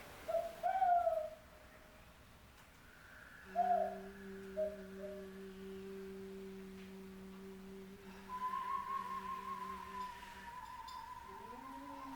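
Birdsong plays as part of a theatre soundscape surrounding an audience: sustained owl-like hoots and whistled tones, with a few short calls near the start, soft and spacious against a quiet background.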